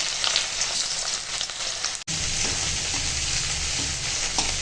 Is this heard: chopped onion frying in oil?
yes